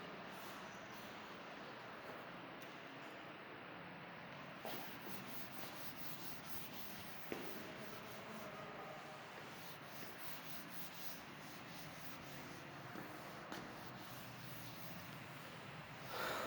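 A duster rubs writing off a classroom board during a maths lesson, with faint, steady scrubbing strokes over a quiet room hiss and no talk.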